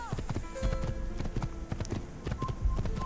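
Horse hooves clip-clop at a steady trot while riding in the Assassin's Creed video game, rhythmic close thuds mixed with game ambience and faint chiming tones.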